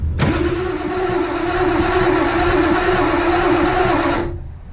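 An old Ford F-350 with a 7.3 IDI diesel engine running at its first startup after a build, with heavy blow-by, a loud steady clattering idle that catches abruptly and holds evenly before cutting off.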